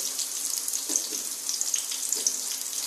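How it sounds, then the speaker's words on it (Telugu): Onions, beetroot and carrot sizzle in a pan, a steady bright hiss of frying with a few soft stirring knocks, close and fairly quiet, no talking. "క్యారెట్ ఇవి కొంచెం ఫ్రై అవుతాయి. వేగుతూ ఉంటాయండి."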